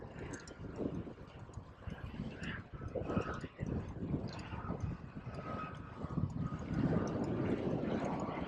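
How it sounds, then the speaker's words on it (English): A small propeller airplane drones overhead at a distance on an outdoor bike ride, a steady low hum under wind and rustling noise, with a voice talking over it. "Someone's flying their plane out here."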